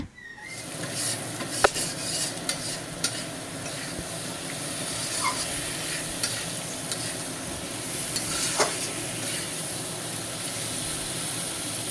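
Potatoes stir-fried in a pan for a Bengali aloo-tomato paneer dish: a continuous close sizzle with a hissing edge, punctuated by occasional scraping strokes of a spatula. No talking.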